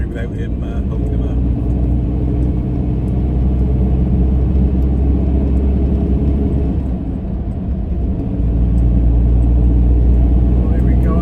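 A car holding a steady 50 on cruise control fills the cabin with a constant, loud low road-and-engine rumble that barely changes throughout, with a voice talking over it at times.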